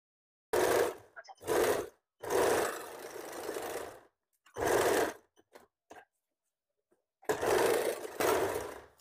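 A sewing machine stitches a garment sleeve in a series of short stop-start runs, loud and close, with silent gaps between each burst.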